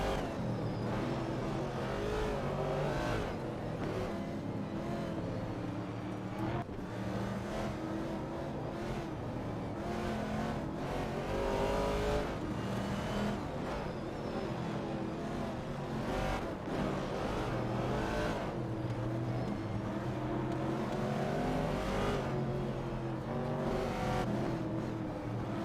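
Vintage TransAm race cars in an AI-driven racing video game, engines revving and roaring continuously with repeated rises and falls as cars accelerate, loud and close with no talk.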